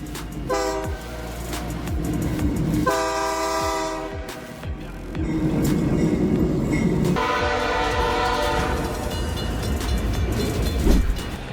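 A freight train carrying Boeing aircraft fuselages rumbles past with rhythmic clatter and drawn-out tonal horn blasts, loud and close, with no talking.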